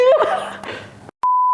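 A pure steady censor beep tone cuts in loud and alone after a brief silence, following a stretch of overlapping voices talking.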